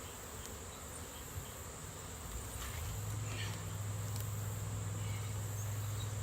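Honey bees buzz steadily around an opened hive, a dense close drone that swells and holds at an even level throughout.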